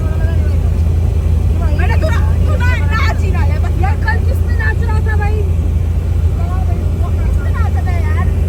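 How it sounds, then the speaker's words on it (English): Ride on a bus: a constant loud low rumble of the vehicle fills the interior, with chatter from several passengers rising and falling over it. "Now we're going on the bus, so let's go."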